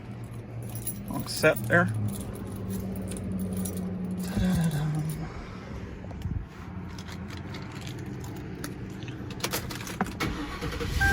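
Keys jangle close by, then a 2003 Mercury Grand Marquis LS engine cranks and starts, settling into a steady idle, with someone speaking briefly over it.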